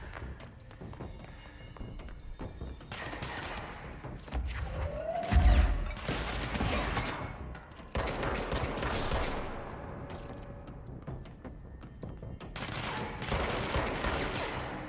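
Bursts of machine gun fire and explosions ring out in the action video game Control, rapid rattling volleys mixed with impacts and crashes over game ambience.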